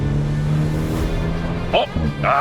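Maserati Levante GT Hybrid with a four-cylinder hybrid engine accelerating in third gear in manual sport mode, steady engine drone with rising harmonics, heard close from inside the cabin while someone talks over it.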